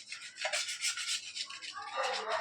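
A burnt milk pot is scrubbed clean with quick, close rubbing strokes in a rough back-and-forth rhythm, fairly quiet and with no voices.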